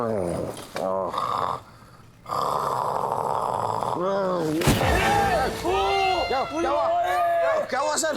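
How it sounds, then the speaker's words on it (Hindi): Several people snore in a comedy scene: loud, rough, rhythmic snorts and rasping breaths, some exaggerated and wavering in pitch, overlapping one another close by, with vocal sounds mixed in. "तुम लोग खर्राटे भर रहे हो"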